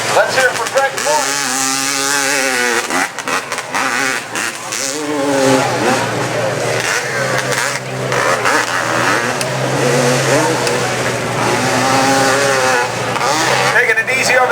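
A Honda motocross motorcycle at a big hill-climb event in Pennsylvania, its engine revving loudly and rising and falling as it climbs over jumps, heard under constant announcer commentary and crowd noise.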